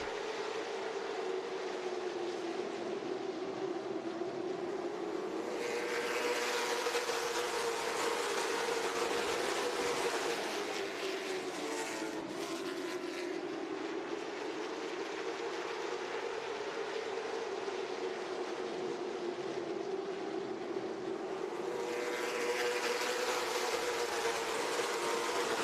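Late model stock cars roar around a short oval track, a continuous dense engine drone whose pitch rises and falls as the field passes, with no voices.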